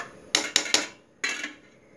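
A metal spoon clanks against a cooking pot while three glasses of water are stirred for a seeraga samba vegetable biryani. There are three quick close knocks, a short pause, then one more strike, each ringing out briefly.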